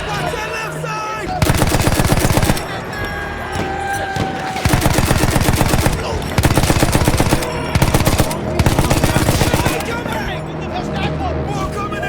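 Machine guns fire in Battlefield 1 during the Storm of Steel mission, with loud sustained bursts repeating in several long stretches amid battle noise and shouting voices.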